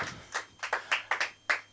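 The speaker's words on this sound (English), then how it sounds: "Just fucking clap, okay?" Several separate claps from a small comedy-club audience at a Los Angeles stand-up show, a sparse, uneven patter of hand claps rather than full applause, fairly close.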